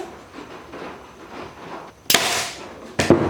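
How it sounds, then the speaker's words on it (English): A staple gun fires staples into the top of a wooden Layens beehive frame: two sharp, loud snapping shots about a second apart, close up, over faint background noise. "I just take it right out and shoot the staples in the top."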